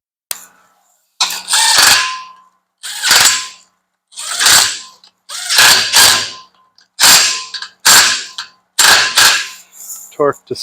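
Ratchet torquing four 10mm nuts on a generator coupler by a flywheel of an Onan Marquis Gold 5500: a series of loud, close clicking ratchet strokes in regular bursts, each lasting roughly a second, with short pauses between.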